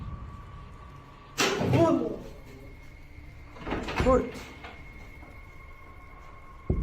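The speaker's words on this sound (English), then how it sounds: "something pounds against the door and then rattles it, trying to get out" Something heavy pounds against a locked set of doors and rattles them, two loud bursts of banging and clattering a couple of seconds apart over a steady low hum, with no one talking.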